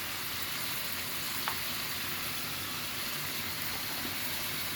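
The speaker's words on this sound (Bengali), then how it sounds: "আমি সবজিটা এখন কষিয়ে ভেজে নেব" Vegetables and katoa stems fry with turmeric, salt, chili, coriander and cumin powders in a pan, making a soft, even hiss of sizzling oil with one faint clink partway through, and no speech.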